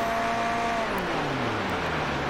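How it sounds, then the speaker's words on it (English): A GT3 race car in iRacing at Silverstone with the clutch down, lifting and coasting: a steady engine note that drifts gradually lower as the car rolls on, with a faint wind and road rush and no voices. "full clutch down, lifting and coasting"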